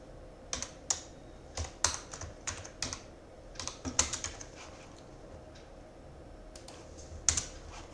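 Keys clacking on a computer keyboard as text strings are entered for a C program: irregular bursts of crisp clicks in short clusters, close and moderately loud, with quieter gaps and no voices.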